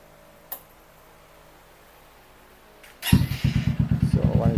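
A custom Honda 150 bobber motorcycle starts up after a faint click and settles into a loud, close, steady idle with a fast, even exhaust pulse.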